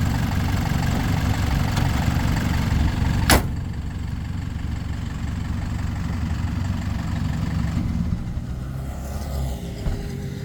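An Isuzu D-Max pickup's 2.5-litre diesel engine idles steadily with a low, rumbling drone that runs the whole time, broken by one brief sharp click partway through.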